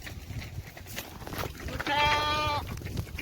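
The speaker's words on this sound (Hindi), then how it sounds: "ये देखें, ये हमारी भेड़े बकरियां हैं" Goats and sheep kept together in an open rural setting, with one clear, wavering bleat standing out loudly for about a second over steady background noise and faint distant sounds.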